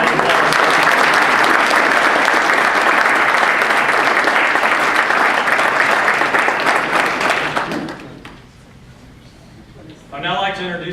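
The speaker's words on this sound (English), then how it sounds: "How about a round of applause?" Loud, dense applause from an audience at a Greystone Preparatory School honor code ceremony, holding steady for about eight seconds before fading out, after which a voice begins speaking.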